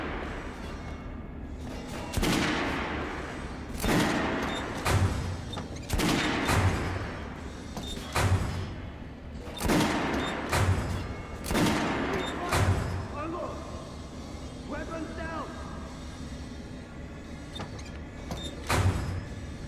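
An RPK machine gun fires in Metro Last Light Redux, repeated bursts of sharp shots at a steady loud level with brief gaps, and a faint voice in places.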